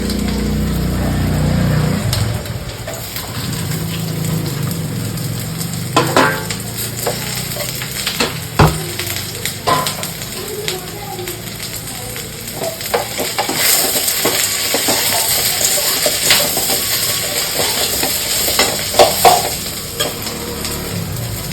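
Shredded cabbage stirred into softened sautéed onions in a hot pan, with a steady oily sizzle and scraping spatula strokes recurring throughout, close and fairly loud, without any talk.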